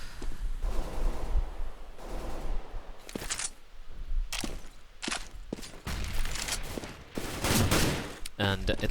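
Counter-Strike gunfire during a competitive esports match, with bursts of rifle shots and scattered single cracks over continuous crowd and game noise, fairly loud, with a commentator talking through it.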